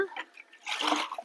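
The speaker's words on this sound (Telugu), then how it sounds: "ఇప్పుడు దీనికి 2 లీటర్ల నీళ్లు పోసుకోవాలా" A short, soft splash of water poured into a container of neem seeds, rising to a fuller gush near the end.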